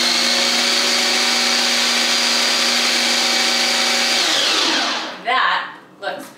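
A blender runs steadily at full speed, blending a smooth eggplant filling for vegan manicotti, then cuts off and spins down. A few short clunks and knocks follow in the quiet.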